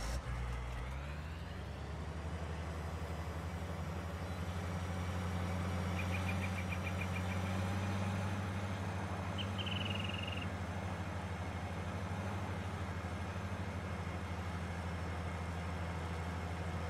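Combine harvester in Farming Simulator 19 idles with a steady low engine drone, with faint brief beeps partway through and no talking.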